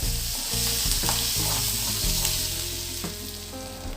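Onion and garlic sautéing in a hot pan, a loud continuous sizzle with steady stirring scrapes and occasional clinks throughout, no voices.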